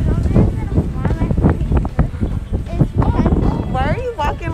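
Strong gusty wind buffeting the microphone outdoors on a stormy weekend trip to Corpus, rough and loud throughout, with people talking over it.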